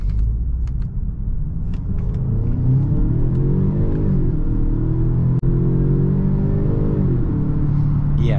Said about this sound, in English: this transmission shifts very quick, and this thing keeps pulling